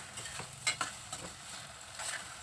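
Okra and onion fry being turned in a pan, a few scraping stirs and clacks over a soft, steady sizzle of frying, close and unaccompanied by talk.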